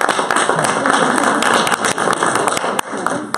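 Dense, continuous clapping from a crowd of adults at a McAllen city commission District 1 candidate forum, loud and sustained throughout with scattered sharper individual claps.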